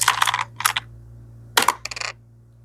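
Dice rolled during a tabletop wargame, giving a few quick rattling clatters in two separate bursts with a short quiet gap between them.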